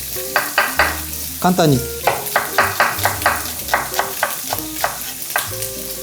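Bacon frying in a pan while being tossed: a close, rhythmic series of scraping stirs over a sizzling bed, with a brief spoken phrase.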